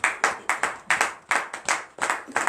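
A church congregation claps in acclamation at a morning prayer service, a crisp, fairly regular run of roughly a dozen claps, close and lively, with no talk over them.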